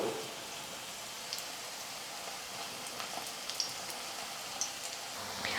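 A potato snack fries in a pan over medium flame, giving a steady, soft sizzle with occasional small pops and crackles close by.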